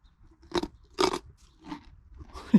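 A horse bites into a carrot treat with a few distinct, close crunches, spaced apart and fairly gentle, followed by softer chewing.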